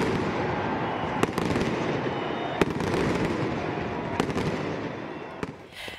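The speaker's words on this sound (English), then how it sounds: "Athens brings in the new year with fireworks at the stroke of midnight over its most famous landmark, the Acropolis" New Year's fireworks burst at midnight over the Acropolis in Athens, a steady rumble of distant crackling with several sharper bangs standing out.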